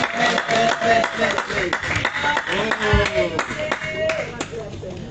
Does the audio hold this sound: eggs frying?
no